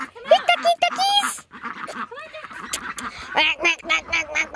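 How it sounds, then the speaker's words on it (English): A group of ducks quacks nearby on a day-trip outing in rapid, uneven bursts while a person calls to them in a sing-song voice over the top. "Here, ducky, ducky, ducky, duckies."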